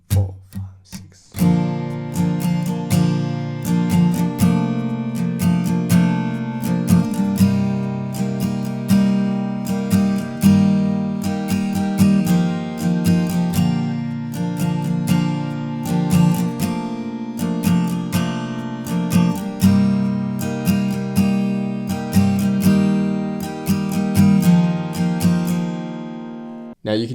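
Acoustic guitar strumming the chords of a song: steady down-up strokes in a regular rhythm, close and full, running continuously through several chord changes.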